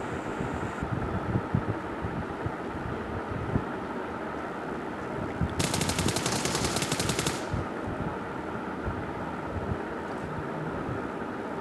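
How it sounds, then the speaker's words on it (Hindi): Gunfire in the mobile battle game PUBG Mobile: a distant, muffled rattle under steady wind-like noise, with a sharper automatic burst lasting about two seconds near the middle. "मैं एकदम दपा दप गोली मारता हूँ"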